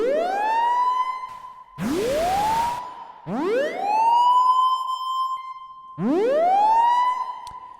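Analog synthesizer playing a single oscillator, a bright, buzzy tone that swoops upward in pitch and settles into a steady note, repeated four times with a noisy burst between the first two, loud and alone.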